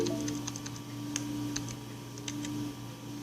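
Light, sparse keystrokes tap on a computer keyboard entering a command, faint and close over a steady low hum, with no speech.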